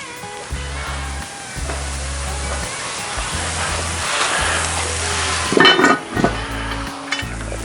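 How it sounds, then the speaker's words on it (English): Hash browns fry in a Dutch oven with a steady, close sizzle and crackle that runs throughout, broken by a few sharp scraping clatters near the end and low rumbling thumps underneath. "Giving those hash browns a little head start."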